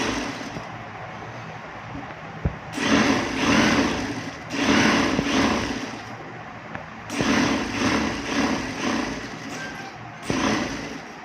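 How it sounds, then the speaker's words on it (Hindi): A sewing machine stitches a kids' pleated skirt in several bursts of steady, close mechanical whirring separated by short pauses, with no talking. "वहाँ पे स्टिच लगा लेंगे"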